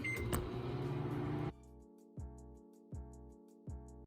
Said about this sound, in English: And now it goes in the microwave.